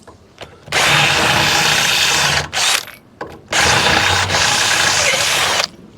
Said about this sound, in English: I'll get the drill, I'll knock these out and I'll put some countersunk rivets in.